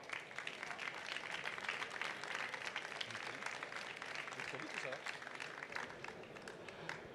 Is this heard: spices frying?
no